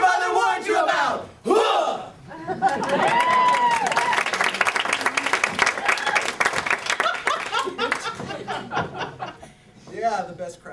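A live outdoor crowd at an improv comedy show cheers, whoops and applauds loudly for several seconds, with voices shouting over the clapping before it settles into scattered cheers.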